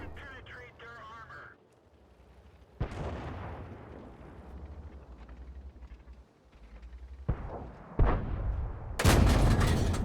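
Tank gunfire in a video game aimed at the side of a Covenanter tank, several sharp booming shots spaced apart with rumbling decays, alongside voice chatter early on.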